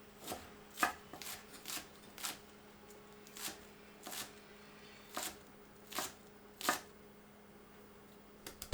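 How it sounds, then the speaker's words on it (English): A knife mincing shallot on a cutting board makes a close, quiet run of about fourteen crisp taps at an uneven rhythm, each a short sharp knock with small gaps of silence between. "Mince up the shallot."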